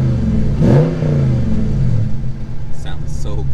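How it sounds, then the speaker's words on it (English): A Dodge Charger Scat Pack widebody with a 6.4-liter V8 barks into a loud rev, then settles into a deep, rumbling exhaust idle heard up close. "We'll start with the exhaust."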